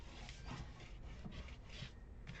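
A paper fold on a handmade gift bag being burnished, giving close, faint rubbing and scraping strokes in a quick repeated rhythm, with no talking.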